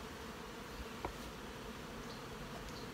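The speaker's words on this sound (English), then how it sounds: "These bees are nicely up into the top box." Honey bees hum inside the top box of a hive, a faint, steady insect buzz with no voices and no other clear sounds.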